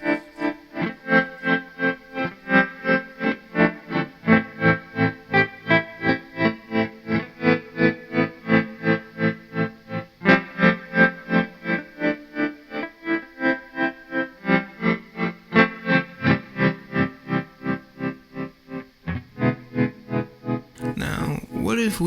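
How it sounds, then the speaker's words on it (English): An atmosphere reverb effect pedal has an LFO modulating its mix and volume, so a sustained tone swells and fades in a steady, fast pulsing rhythm. It plays loud and close before it cuts off abruptly at the end. "I am going to set the LFO to control the mix and the volume, and this is what it should sound like."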